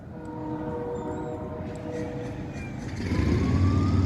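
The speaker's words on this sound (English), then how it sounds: "We got a train going through" A train rumbles past with steady low clatter, a long horn-like tone sounding over it and the noise swelling louder toward the end.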